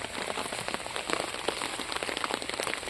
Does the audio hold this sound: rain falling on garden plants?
yes